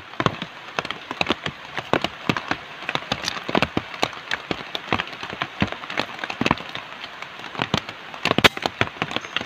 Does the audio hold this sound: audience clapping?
no